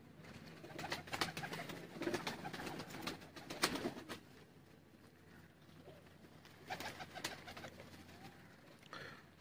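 Pigeons coo steadily at a spacious rooftop loft of breeder birds in Sialkot, a layered, close chorus of soft throaty calls with occasional wing flutters and no talk.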